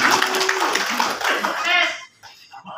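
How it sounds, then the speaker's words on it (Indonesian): Audience clapping at the PPWI national congress, a dense burst of applause mixed with crowd voices and some laughter that fades out near the end. "Tepuk tangan."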